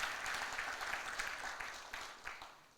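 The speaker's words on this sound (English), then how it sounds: "we kindly request for another round of applause for the unveiling of our new generation" Audience applause at the unveiling ceremony for Fiji's new generation banknotes, a dense sustained clapping from a large crowd that carries on steadily, with individual claps standing out as it slowly tapers.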